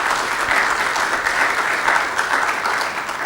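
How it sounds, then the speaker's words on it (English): An audience at a college presidential briefing applauds, steady dense clapping from a sizable crowd holding at a constant level throughout, with no voices over it. "I think we should give these people a round of applause."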